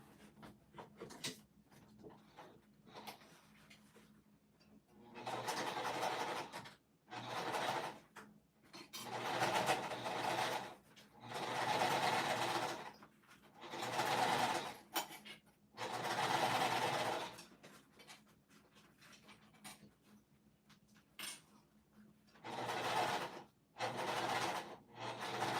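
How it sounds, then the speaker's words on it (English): Sewing machine top stitching a fabric pouch closed near the edge, in repeated bursts of fast, close mechanical whirring a few seconds long, separated by quiet pauses and small handling noises. "I'm just gonna top stitch it closed as close to the edge as I can get"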